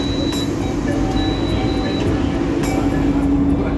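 LRT Jabodebek train standing at a station with its doors opening, a steady low rumble of the car and station hum with brief chimes and soft clunks, recorded close from inside.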